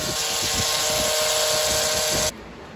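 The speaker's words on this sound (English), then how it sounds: "What I'm doing here is taking my little hand sander for some of the bigger parts" A small electric hand sander buzzing steadily against a car's performance pack spoiler during paint prep for primer, a loud continuous whine close by that cuts off abruptly near the end, no voices.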